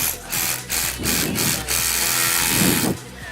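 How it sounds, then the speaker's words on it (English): Hilti Nuron cordless power tool switched to chiseling mode, setting an anchor: a loud, steady mechanical hammering buzz with rapid repeated percussive pulses, running nearly continuously for a few seconds up close. "Put the tool into chiseling mode."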